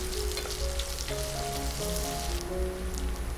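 Onion frying in oil with green chilies and curry leaves for tomato rice, a steady continuous sizzle and crackle running through the whole stretch, close and fairly loud, with faint tonal hum beneath.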